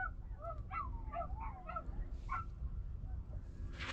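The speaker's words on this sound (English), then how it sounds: "Uh-oh, here's some doggies over there." A pack of distant dogs in Arizona barks and yelps in quick, overlapping bursts, faint but clear above a low constant hum.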